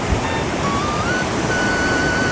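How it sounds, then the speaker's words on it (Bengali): Water pours over big rocks at Bhatinda waterfall near Dhanbad, a steady, unbroken broadband rush that holds at an even level throughout, with no voices. "বাবা কি জল পড়ছে ভাতিন্দা জলপ্রপাতে"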